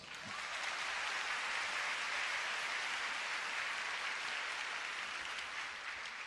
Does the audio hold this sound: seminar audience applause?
yes